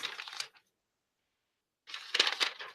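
Paper notes rustle and crinkle in two short bursts while being handled nearby, the first brief and the second slightly longer and louder, separated by about a second of silence, with no voices.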